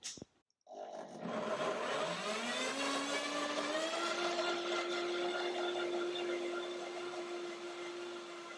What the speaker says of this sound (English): So let's see the blender dance for this dressing.